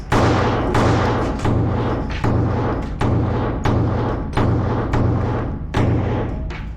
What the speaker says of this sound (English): Next, we're going to try some 147 grain ammunition from LAX Ammunition.